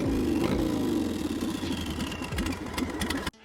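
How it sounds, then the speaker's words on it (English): A Buell roadster motorcycle engine rumbles at a steady idle after starting up, loud and close with a slightly uneven throb, then cuts off sharply at the end. "he fired up the engine"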